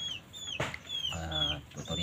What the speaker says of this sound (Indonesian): Ini ayam hutan nori ya teman-teman